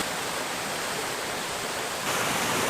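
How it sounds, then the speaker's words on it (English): Waterfall in wet, humid woods after a morning hike, a steady broadband rush of falling water that stays constant and moderately loud throughout, with no voices, growing slightly fuller near the end. "I've got the waterfall in the background"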